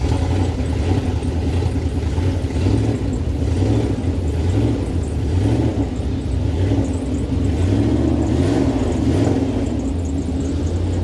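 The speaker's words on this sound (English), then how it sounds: "Let's see if she fires up. Well, it started." An impounded car, revived with a jump pack, runs steadily with a close, low rumbling engine note that rises and falls in gentle cycles for about eleven seconds, with no voices over it.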